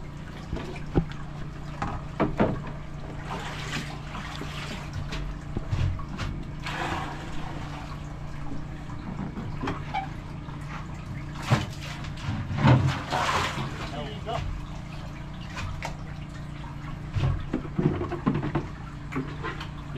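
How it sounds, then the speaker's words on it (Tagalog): Heavy water leak in a warehouse, pouring and splashing continuously at moderate level with sloshing and scattered knocks, while people talk nearby. "Ang lakas ng tagas mong kabisig oh."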